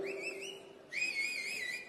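A crowd at a political speech lets out shrill whistles: one wavering whistle, then a louder, longer one that warbles up and down, heard alone without talk.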